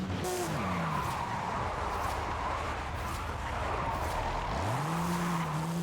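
A 962 CR race car in Forza Horizon 5 drives off-road, its engine droning steadily while tires skid and squeal on loose ground, with the pitch dropping and rising as it slides.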